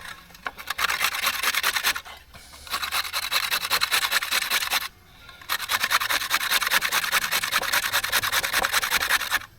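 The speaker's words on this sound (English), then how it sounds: "So I'm just going to grate my carrot." A carrot rubbed against a tiny hand grater gives loud, close, rhythmic rasping strokes in two long bursts separated by brief pauses, with no talking.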